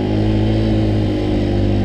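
Tuned scooter engine running steadily during enduro riding, a dense continuous drone held at constant throttle, close and loud with no voices.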